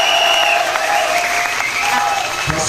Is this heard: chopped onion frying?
no